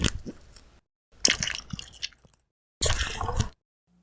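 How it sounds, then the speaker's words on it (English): Wet chewing gum squishes and squashes in three separate close bursts of sticky, wet clicks with silent pauses between them. "the squishing and squashing of wet gum"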